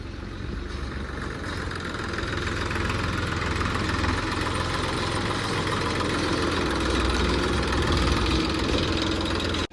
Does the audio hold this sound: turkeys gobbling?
no